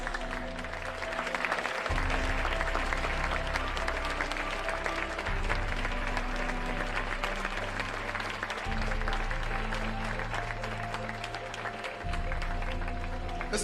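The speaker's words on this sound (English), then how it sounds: "I want you to give yourself a round of applause for investing into your life." A large audience gives sustained, loud applause, many hands clapping continuously and evenly over a low musical backdrop throughout.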